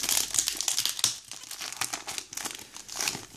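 The crinkly foil wrapper of a trading card booster pack is opened close by, with continuous crackling and crumpling and some tearing, and no talk over it.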